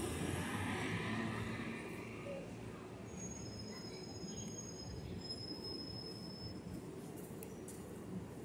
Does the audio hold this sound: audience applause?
no